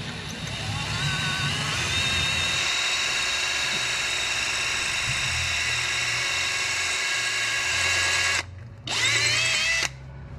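A power drill bores a hole with a loud, steady high-pitched whir, its pitch shifting slightly under load, then stops twice near the end in short pauses before spinning up again.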